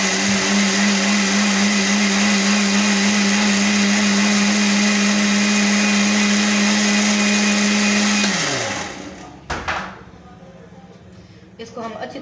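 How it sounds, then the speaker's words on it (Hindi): A blender whirs loudly and steadily while blending a strawberry milkshake with sugar, then winds down near the end, followed by a few clunks as the jar is handled. "इसको हम अच्छी तरह से ब्लेंड करेंगे।"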